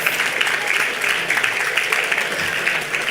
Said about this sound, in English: I need you to give a huge round of applause for yourself.